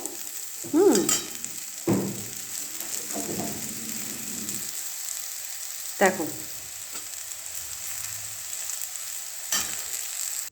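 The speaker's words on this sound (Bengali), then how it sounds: "দেখো আমার ভাজা হয়ে গেছে" Potatoes and onions fry in a pan and are stirred, giving a soft sizzle broken by several sharp spatula scrapes. A voice speaks briefly over it.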